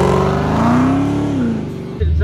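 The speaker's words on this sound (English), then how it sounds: "We got a big blown cobra" Supercharged 347 Shelby Cobra engine idling loud and close with a steady deep burble, pitch rising slightly then easing before a sharp low blip near the end.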